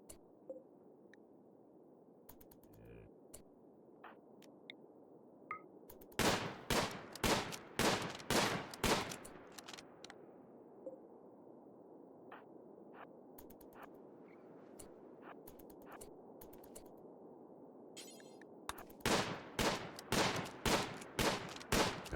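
Colonists in the video game RimWorld firing weapons in shooting practice: two separate bursts of rapid, loud gunshots, each lasting a few seconds, with a quiet stretch between them and no talking.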